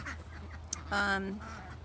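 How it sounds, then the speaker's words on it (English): A duck gives a short, close quack over quiet outdoor background near a permaculture food forest, preceded by a faint brief click. "Sorry about the ducks."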